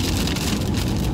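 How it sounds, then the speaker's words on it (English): Heavy rain pours down during a ride near Missoula, Montana, a dense, steady roar of broadband wash that stays loud and continuous throughout with no pauses. "I don't even know if you can hear me anymore through this rain"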